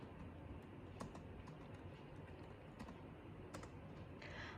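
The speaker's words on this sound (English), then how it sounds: "now I type the command cd to go inside my folder." Keys clicking on a computer keyboard as a terminal command is typed, a quick irregular patter of taps at moderate level over a steady background hiss, with no talking.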